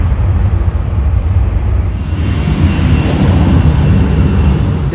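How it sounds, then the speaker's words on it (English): An airplane takes off near a waterfront hotel in Key West, Florida, with a loud, steady engine roar that swells and holds throughout, carrying heavy low rumble and no voices. "By the way, a plane just took off."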